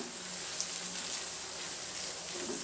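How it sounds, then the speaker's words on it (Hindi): Green chili masala fries in a pan, giving a faint, steady sizzle and crackle that carries on evenly throughout without any talking. "इसे अच्छे से भून लेंगे।"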